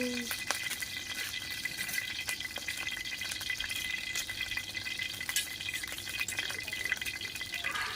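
Stir-frying in pork fat in a wok, a continuous hissing sizzle with scattered scraping taps of a spatula, steady and close.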